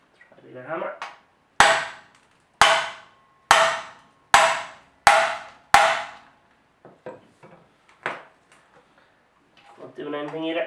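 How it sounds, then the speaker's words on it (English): A voice speaks briefly, then six loud metallic hammer blows land on a motorcycle exhaust pipe in an even rhythm, followed by lighter taps and more talk. "Try a bigger hammer."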